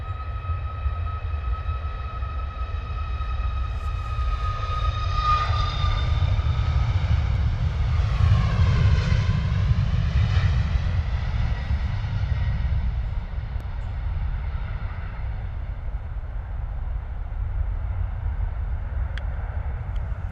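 A Ryanair jet airliner departing London Stansted Airport, a loud sustained engine roar with deep rumble and a high whining tone that bends in pitch as it passes close by around the middle, then holds steady as it climbs away, with no talking.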